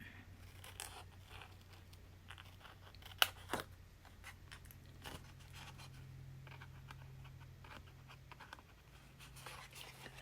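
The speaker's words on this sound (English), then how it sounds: "I'm going to cut from this edge over to that heart and around it" Scissors cut paper from an edge around a heart shape, producing faint, scattered snips and scraping rustles close by in a quiet room, with one sharper click.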